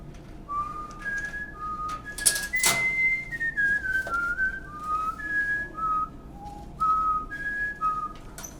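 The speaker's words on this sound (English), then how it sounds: "Pretty much I've been whistling for as long as I can remember." A person whistles a lively melody of clear, wavering notes that rise and fall in short phrases with brief pauses, close and prominent over faint background noise.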